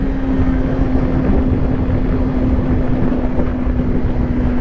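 A Kawasaki Ninja 400 motorcycle's engine while riding on regular roads: a steady, loud, even drone holding one pitch throughout, mixed with wind rush and no talk.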